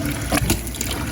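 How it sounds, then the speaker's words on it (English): Faucet water fills a kitchen sink basin in a newly plumbed cabin, producing a loud, steady, close gushing stream that runs continuously without any talking. "Let's fill the basin."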